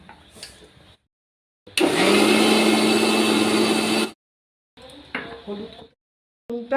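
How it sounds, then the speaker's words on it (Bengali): An electric blender grinds onion, ginger and garlic into paste for egg biryani, one steady loud whirring run of about two seconds between brief moments of quiet and talk. "পেঁয়াজ, আদা, রসুনের পেস্টটা করে নিচ্ছি।"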